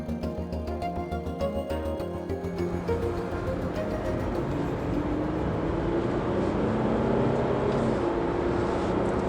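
2018 Range Rover Velar diesel pulling away, a low engine rumble with a pulsing idle that builds into a smooth rising drone as the car accelerates, heard from inside the cabin.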